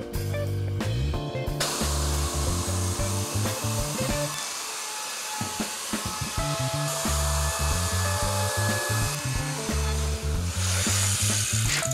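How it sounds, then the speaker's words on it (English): A router fitted with a 1/8-inch roundover bit rounds over the edge of a log for furniture, a loud, continuous high whine with rough cutting texture that barely lets up, close up and alone. "So that's how we achieve this nice rounded over edge with our router."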